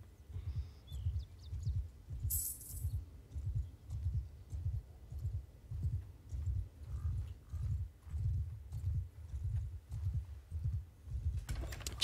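Horses move in Mount & Blade II: Bannerlord, a steady rhythmic clip-clop of hooves, soft and fairly close, repeating evenly throughout with a few faint clicks and no talking.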